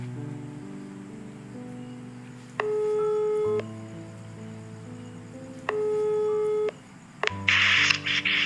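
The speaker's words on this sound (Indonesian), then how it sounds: "Dan saya coba telepon, semoga diangkat." Repeated ringback tone of an outgoing phone call, two steady beeping bursts with a pause between them, heard over soft background music, ending just as the call connects.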